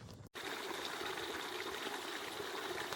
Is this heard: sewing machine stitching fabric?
no